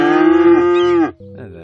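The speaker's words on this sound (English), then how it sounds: "It's cows." Cows moo in the Cities Skylines city-building game, one long loud sustained moo followed by a shorter trailing moo, clear and close with no talking.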